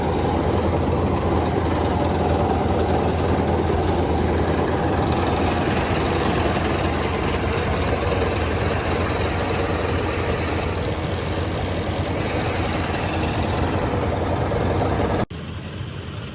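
A tractor engine idling on a farm during a paddy harvest, a steady low diesel rumble and drone that holds constant and close for the whole stretch, with no talk over it.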